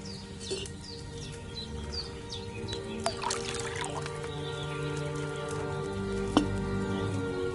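Wine poured into a cauldron in a video game, a soft continuous trickling and splashing with a few bright chirps over a steady low background hum.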